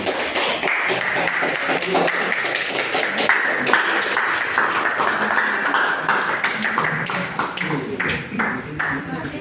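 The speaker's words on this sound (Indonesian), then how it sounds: "Tepuk tangan, tepuk tangan, tepuk tangan." Students applaud after a math presentation on fractions, scattered claps rattling on steadily while voices talk throughout.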